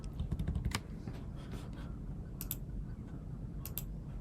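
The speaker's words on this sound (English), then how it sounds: "At your prompt in your shell, you can type mnt/d." Someone types a shell command on a computer keyboard: a few scattered, light key clicks close by, with a quiet pause between the taps.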